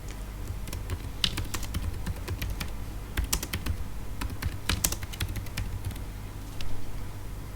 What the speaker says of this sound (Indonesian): Di sini untuk nama karyawan saya inputkan Iis marketing,